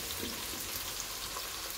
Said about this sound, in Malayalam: ഇത് നമുക്കൊന്ന് പൊരിച്ച് കോരിയെടുക്കണം